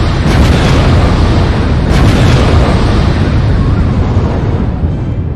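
Explosions in the Age of Civilization 2 strategy game, a loud, dense, continuous booming roar with a couple of sharper bursts near the start, sustained at full level throughout.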